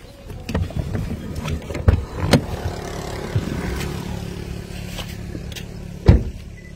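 Interior of a moving car on a road in Imo State, Nigeria, with a steady low engine and road rumble, scattered knocks and bumps, and a sharper thump near the end; no talking.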